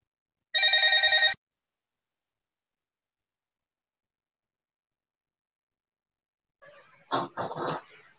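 A telephone rings once in a single loud, steady burst near the start, followed by a long silence and then a few short, muffled bumps and noises near the end.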